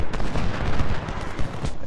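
Cannon and musket fire in Ultimate General: Civil War roll on as a dense, continuous battle din, loud and close, with no clear pauses between shots.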